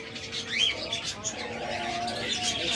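A pair of doves with chicks gives a few soft coos and chirps among other cage birds, with faint talking in the background.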